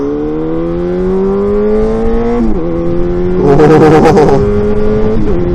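A Suzuki motorcycle engine revs up through first gear, its pitch climbing steadily, dipping briefly at a shift, then roaring harder with a rough, noisy burst near the end, loud and close.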